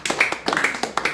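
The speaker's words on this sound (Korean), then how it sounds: "박수." A church audience claps hands in a short burst, a few quick, close, irregular claps in about a second.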